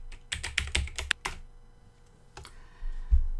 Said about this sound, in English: Now I'm going to just type a little bit of text in here to mention something about the formatting.